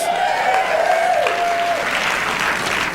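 Audience applause at a seminar on wealth and success, steady dense clapping filling the room at an even level from start to finish, with no voices over it.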